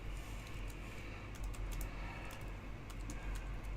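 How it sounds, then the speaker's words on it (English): Fast, continuous keyboard typing, close and fairly loud, with rapid key clicks running steadily over a dense background hum and no voices. "Who are you typing to?"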